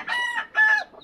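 Chickens in a newly built coop at a rural home give two short, close, nasal calls back to back, clear against a quiet background.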